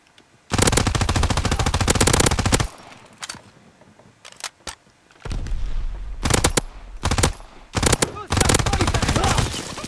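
Machine gun fire in Call of Duty WWII team deathmatch multiplayer comes in loud, sustained bursts: one long stream early on, a brief burst, then several rapid volleys toward the end, with some quieter game sounds between them.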